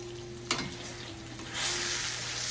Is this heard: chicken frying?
yes